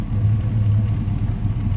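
Low, steady idle rumble from the exhaust of a 1956 Willys station wagon with a GM ZZ crate engine, heard close behind the car, a continuous throbbing burble with no voices.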